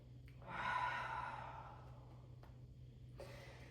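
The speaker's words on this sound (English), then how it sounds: "Big breath in and out" During a Pilates mat stretch, a single deep breath is drawn in and slowly released, a soft airy exhale close to the microphone in a quiet room, followed by faint stillness.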